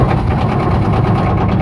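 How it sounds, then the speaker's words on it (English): A car engine runs at a steady idle, a continuous low rumble with a faint rhythmic chatter, close by and fairly loud. "So let's start the engine up and see what happens."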